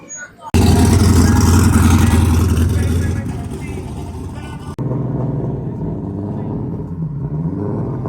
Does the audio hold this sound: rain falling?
no